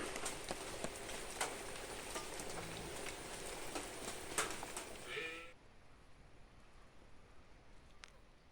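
Rain falls steadily on a village farm with pineapple plots, a continuous soft broadband patter for about five seconds before dropping abruptly to a much quieter hiss.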